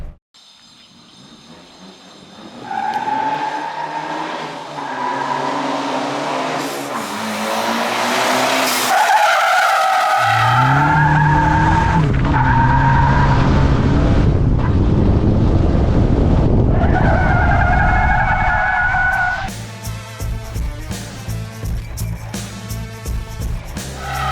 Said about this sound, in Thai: เดี๋ยวเรามาทดสอบดูระยะเบรกก่อนว่า เป็นยังไง ยางเดิมรถบ้านๆยางบ้านๆ